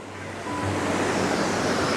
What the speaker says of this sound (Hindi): और इधर पूरी नदी बह रही है,